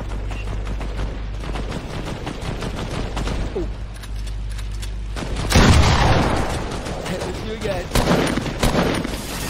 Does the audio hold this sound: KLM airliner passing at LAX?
no